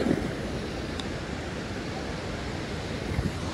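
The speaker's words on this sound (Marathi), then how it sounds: "आणि ही अलकनंदा नदी." The Alaknanda river rushes through the Himalayan mountains on the route to Hemkund Sahib, a continuous broad roar of flowing water at a steady level, heard alone without voices.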